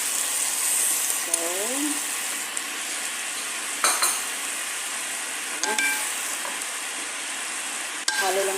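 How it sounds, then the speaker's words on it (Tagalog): Egg gets stirred into bitter gourd frying in a large pan: a continuous sizzle with occasional metal utensil scrapes and clinks against the pan, plus faint voices in the background. "halo lang natin ng konti para ma-mix yung itlog"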